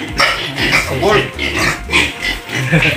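Backyard fattening hogs grunt and oink repeatedly in a loud, close, overlapping series of rough, irregular squeals and snorts, while people talk faintly in the background.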